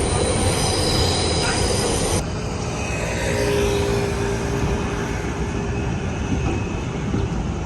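Metro subway train wheels squealing on the rails, loud piercing high-pitched screeches over a heavy rumbling roar, with a sharp shift in the squeal partway through as the train keeps moving.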